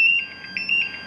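Altair 4X multigas detector in alarm, sounding rapid, shrill repeated beeps in a quick pulsing pattern, loud and close, with no talk.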